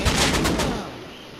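Rapid gunfire bursts in a PvP shooter video game, a loud burst of several close shots in quick succession that fades into a lingering echo.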